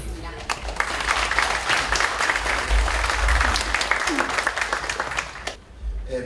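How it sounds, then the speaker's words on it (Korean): An audience at a Korean finance investment forum applauds steadily to welcome a speaker, the clapping dense and sustained for several seconds before tapering off. "박수로 모시겠습니다."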